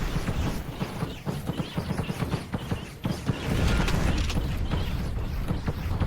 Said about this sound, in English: Pile Bunker is great for taking out buildings.